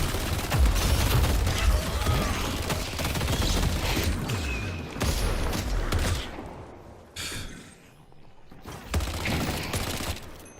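Video game gunfire from a team shooter, dense bursts of rapid shots and mechanical clatter that stop and start in waves, loud and close, briefly dropping to near silence before firing resumes.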